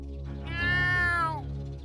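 A cartoon cat lets out a single drawn-out meow that swells to loud in the middle and trails off, heard alone without talk.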